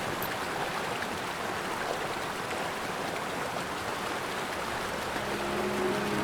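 A river runs in a continuous, even rushing wash of water, close and fairly loud, with no voices over it.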